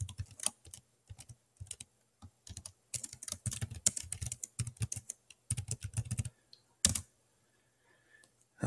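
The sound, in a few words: typing on Asus Flip Chromebook keyboard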